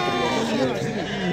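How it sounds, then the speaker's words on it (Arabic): A two-month-old lamb bleats at a livestock market, a near, wavering cry that nearly fills the moment, with voices mixed in around it. "خروف عنده شهرين تبارك الله"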